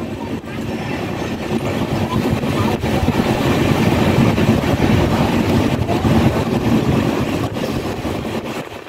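A Tambaram–Sengottai superfast express train rolls slowly on approach to a junction, heard from on board as a loud, steady rumble and rattle of the carriages with faint clicks and wind noise throughout.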